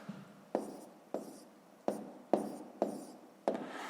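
A pen writes on paper while working a fifth-grade math exercise, a series of about seven distinct scratchy strokes at a near-regular pace, close and quiet, each stroke fading before the next.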